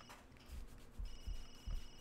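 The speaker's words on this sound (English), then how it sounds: "And of course, now his phone is ringing." A phone ringing in The Sims 3: a quiet electronic ringtone with repeated high tones, accompanied by soft low thumps at intervals.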